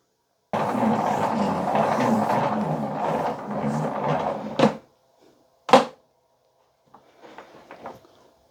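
A 15-meter retractable cable reel in a workshop winds its cable back in with a loud, steady whirring rattle lasting about four seconds, ending in a sharp clack, then a second clack and faint knocks.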